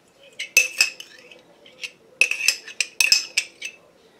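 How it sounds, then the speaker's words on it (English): A long iced teaspoon clinks against a macchiato glass in bright metallic taps, a few near strikes, then a quick cluster of rattling clinks after a short pause. "I'll use my iced teaspoon."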